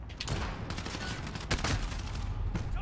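Rapid gunfire in a first-person shooter game, several sharp shots crackling in quick succession over dense, continuous game noise.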